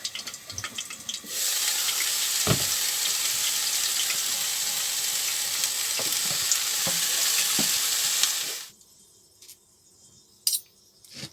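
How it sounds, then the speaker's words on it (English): Mushrooms tossed with steak in a hot pan give a loud, even sizzle lasting several seconds, broken by a few scraping stirs, before it cuts off to near quiet with a couple of faint clinks. "I'm now going to put the mushrooms back in to pick up any flavours that have come out of the steak. I'm just going to waz them all around together."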